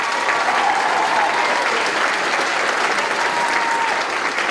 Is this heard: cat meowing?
no